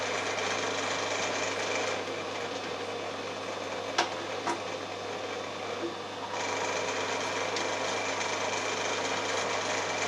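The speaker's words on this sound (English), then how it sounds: "I'll power it up and show you it running. There's a little rattle on the clutch" A Myford Super 7 lathe runs steadily with a constant mechanical hum and whir, a slight clutch rattle mixed in, plus a couple of brief knocks near the middle.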